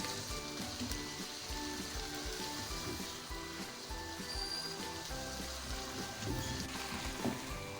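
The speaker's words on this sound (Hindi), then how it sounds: "अब हम गोश्त को अच्छे से भूनेंगे।" Beef and tomatoes fry in a pot with a continuous, close sizzle and crackle, steady throughout and with no voices over it.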